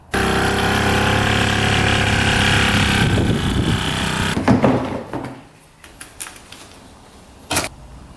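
A UTV engine, underpowered, smoking heavily and low on oil, runs loud and steady at full throttle, then drops off to a rough idle with scattered clunks and a sharp knock near the end.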